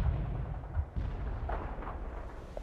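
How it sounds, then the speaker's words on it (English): Heavy artillery barrage in the real-time strategy game World in Conflict: a dense, continuous low rumble of distant shelling with a few heavier thumps and crackling bursts, steady and moderately loud throughout with no speech. "Heavy artillery barrage inbound."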